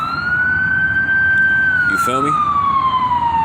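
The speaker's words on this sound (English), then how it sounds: "Ambulance came out of nowhere." An ambulance siren wails loudly and steadily with a rising then slowly falling tone, close by and continuous throughout, while someone speaks briefly over it.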